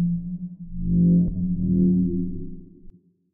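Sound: dark dubstep synth bass with reverb

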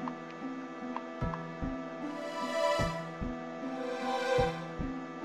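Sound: heartbeat sound in the video game Final Fantasy 8

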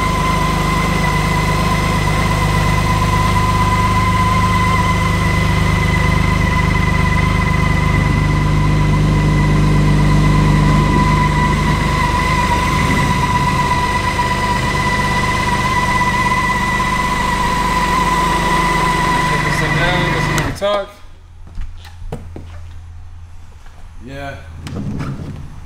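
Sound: 2013 BMW K1600 GTL motorcycle engine idling

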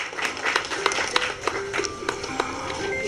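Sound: clapping welcome

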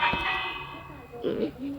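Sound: village bell rung in a video game

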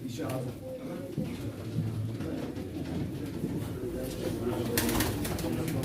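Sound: pigeons cooing at a pigeon auction

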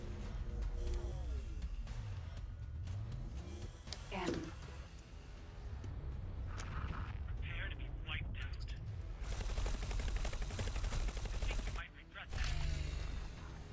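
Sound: ship gunfire in X4 Foundations video game

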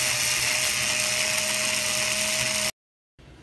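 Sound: cordless screwdriver with drill bit drilling a hole

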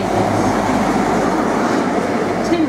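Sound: Great Western Railway Class 43 HST train

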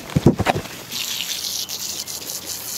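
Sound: running water for a dog's shower

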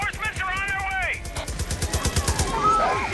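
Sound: gunfire from high-caliber gun, Far Cry New Dawn video game

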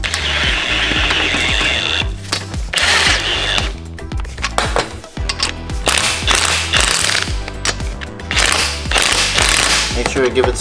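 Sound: ratchet tightening a bolt on RX7 FC rear subframe

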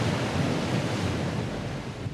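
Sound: high waves on the North Sea

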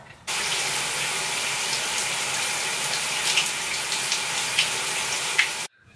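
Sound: shower water running

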